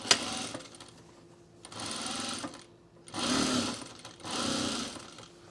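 A sewing machine stitches a sewn rug in four separate bursts of rapid, even whirring, with short quiet pauses between runs.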